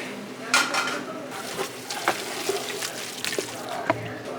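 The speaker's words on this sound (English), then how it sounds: "I'm gonna sprinkle that over everything. We're gonna give that a good stir." Garlic and whole wheat flour being stirred in a pot: a spoon scrapes and clinks against the metal in irregular strokes over a soft sizzle, close and fairly loud.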